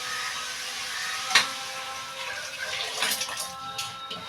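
Water pours steadily onto home rice in a cooking pot, a continuous close splashing rush with a brief sharper splash partway through.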